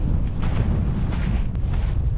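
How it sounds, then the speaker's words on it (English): Wind blowing hard across the summit of Pen y Fan during a freezing solo wild camp, a steady roaring gust buffeting the microphone continuously, loud and close, with no talk. "the wind's picked up a bit from last night"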